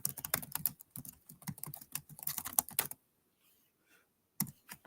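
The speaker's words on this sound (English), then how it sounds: "Guys, I'm just typing this up." Rapid clicking of computer keys, typed in quick irregular bursts for about three seconds, then a pause before a few more keystrokes; close and moderately loud, with no talking.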